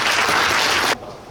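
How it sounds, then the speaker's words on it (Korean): Applause at a union delegates' meeting in Gyeongju, a dense burst of many hands clapping close by that cuts off abruptly after about a second, leaving quiet room tone. "힘찬 박수로 축하해 주시고"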